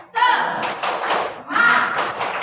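A group of adults at a school training session claps the rhythmic 'tepuk semangat' chant in two loud bursts of hand claps mixed with chanted voices, with a short pause between them.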